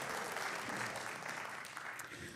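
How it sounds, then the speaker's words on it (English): Steady round of applause from a seated audience for a panel of speakers at a community event, dense even clapping filling the whole stretch at moderate distance. "Let's give a round of applause to our panelists."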